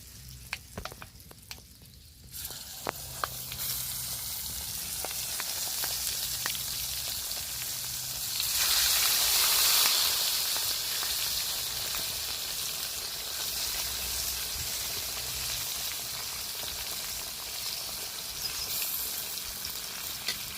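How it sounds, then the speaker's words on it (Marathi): Dough rounds (loli) sizzle and crackle in plenty of hot oil outdoors by a river, a steady frying hiss with a louder bubbling surge midway and no talk. "तेल पण किती तापलंय लोळी टाकून घेणार आहे आता"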